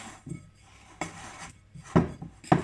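Milk being mixed by hand into flour for cheese scone dough in a bowl, a few scattered soft knocks and scrapes against the bowl, sparse and close, growing slightly louder toward the end.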